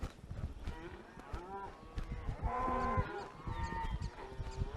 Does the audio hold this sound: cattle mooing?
yes